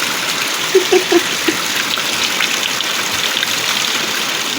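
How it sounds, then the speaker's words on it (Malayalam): Steady heavy monsoon rain hisses and patters on surfaces all around, with a few brief low knocks early on and no voices. "നല്ല മഴ അല്ലേ, കർക്കിടകമാവും അങ്ങനെയാണ്."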